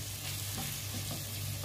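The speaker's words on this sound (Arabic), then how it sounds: "ونقلبها كويس عشان تتعصج معانا" Chopped onions sizzle and fry in a pan while being stirred, a continuous crackling hiss with faint scraping of the spoon, steady and close, no voices.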